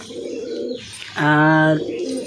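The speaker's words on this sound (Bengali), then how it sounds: "এই যে 5 পিস পায়রা দেখছো, এই 5 পিস পায়রা এখন ছাড়বে" Pigeons, Giribaz tumbler birds being readied for a flying tournament, give a close, loud coo, a steady stacked hum that rises and holds for about half a second between softer, murmuring calls.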